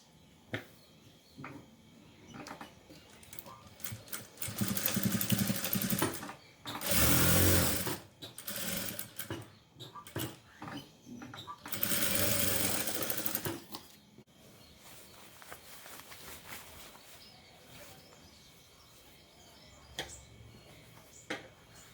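Sewing machine stitching fabric during a tailoring lesson: two loud bursts of rapid needle clatter, each a few seconds long, separated by quieter handling clicks and pauses.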